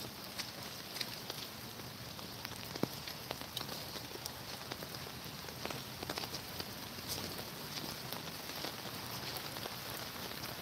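Rain falls at a duck pond in the Smoky Mountains, a steady close patter with scattered sharper drops striking nearby surfaces, continuous throughout and with no voices.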